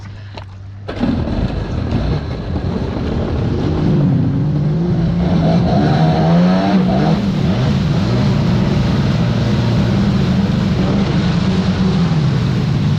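A 1996 Sea-Doo XP jet ski engine with freshly tuned carburetors starts up after a brief low idle, then runs loud and close at a steady, throaty drone, the pitch rising and wavering a bit before settling into a constant high hum.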